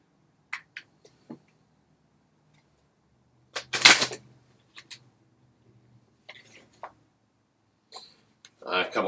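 A stack of Black History Month knowledge cards is shuffled by hand, giving a few quiet riffling bursts with one louder flurry and scattered soft card taps in a quiet room.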